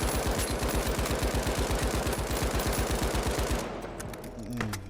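A Lewis gun fires in The Finals video game: one long, rapid burst of evenly spaced shots that runs loud for several seconds, then cuts off and leaves a brief fading tail.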